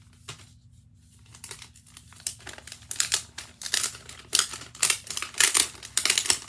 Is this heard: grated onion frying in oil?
no